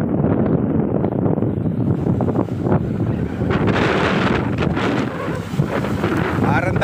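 Strong wind roars steadily into the microphone outdoors by Laguna Lake, a constant buffeting rush with a faint lapping of lake water underneath.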